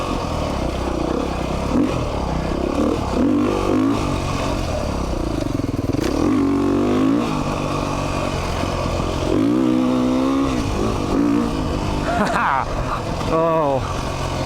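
Riding a 2019 Beta 390 RR Race Edition dirt bike, its engine revving and shifting steadily throughout with clattering and scraping over the terrain, a voice talking over the motor.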